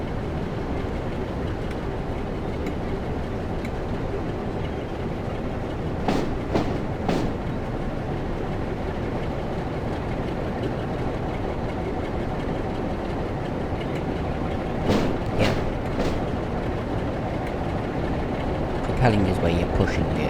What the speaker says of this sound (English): You can hear that class 47 now